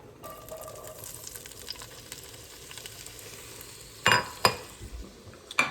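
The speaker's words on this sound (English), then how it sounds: "You want the pan to be hot enough to start hearing it sizzle right away" Quiet, faint sizzling crackles of peppers in a hot pan, broken near the end by a few sharp metallic clinks of a utensil against the cookware.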